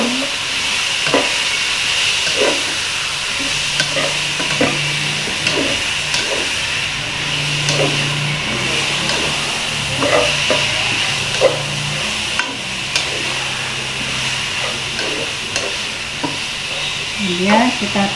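Chicken soup ingredients stirred in a sizzling pan, soft repeated scrapes and knocks of a utensil over a continuous hiss of frying, close and steady throughout.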